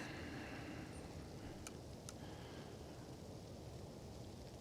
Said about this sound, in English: As we get rained on here.